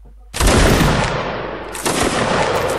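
Historical reenactors of the Semyonovsky and 30th Poltava regiments fire a musket volley. A loud, ragged burst of shots cracks out, and a second cluster of shots follows about a second and a half later, echoing outdoors.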